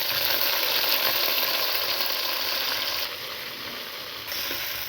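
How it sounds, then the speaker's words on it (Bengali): Chopped onion dropped into hot oil with dried red chillies in a wok, sizzling loudly and steadily up close, easing slightly partway through. "দিয়ে দেবো পেঁয়াজ কুচি।"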